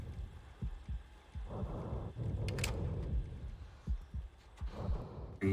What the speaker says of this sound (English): I hear a fucking heartbeat.